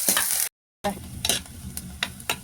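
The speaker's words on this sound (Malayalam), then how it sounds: "ഇഞ്ചി, വെളുത്തുള്ളി ഇതൊക്കെ കൂടി ഇട്ടിട്ട് ഒന്ന് വഴറ്റാം" Ginger and garlic sautéing in plenty of oil for a Kerala mango-flavored sardine curry, a steady close sizzle broken by a brief silent gap, with a few scraping stirs of the spoon in the pan.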